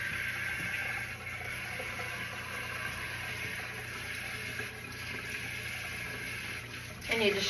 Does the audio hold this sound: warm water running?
yes